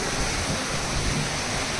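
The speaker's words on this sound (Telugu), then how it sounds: "ఇంత ప్రెషర్ వాటర్ ఒక చిన్న బిల్డింగ్ నుంచి ఇంత వాటర్ లోపలికి పోతుందంటే" Rainwater pours under pressure into a rainwater filter fed from a small building, giving a steady, dense, broadband rushing roar that stays loud and unchanging throughout, with no voices.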